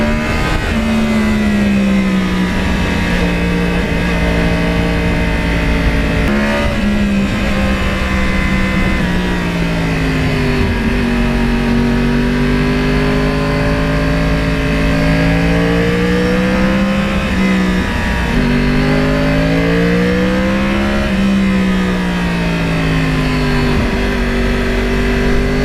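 A Yamaha R1 crossplane sport motorcycle engine revs loudly and steadily for the whole stretch, pitch swelling and dropping with throttle blips as the bike pulls away, with no voices.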